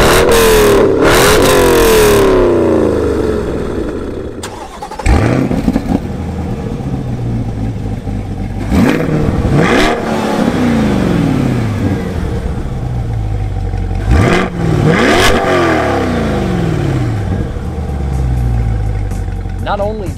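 C8 and C5 Chevy Corvettes revving and accelerating hard in a drag race, several loud engine surges rising in pitch through gear shifts, with a person talking over the engine noise.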